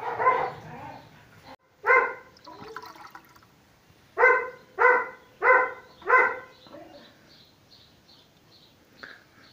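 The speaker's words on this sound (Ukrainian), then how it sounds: "Трошки собаки мішають" A dog barks repeatedly at a moderate distance, a run of four steady barks after a couple of earlier ones, with diesel fuel pouring into a T-25 tractor faintly underneath.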